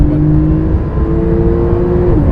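2018 Porsche 991.2 Turbo S accelerating hard through third and fourth gear, heard from inside the cabin: a loud, continuous engine drone climbing steadily in pitch, with an upshift just before the end. A voice briefly begins to speak.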